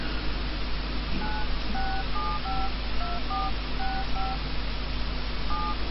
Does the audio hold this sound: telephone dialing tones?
yes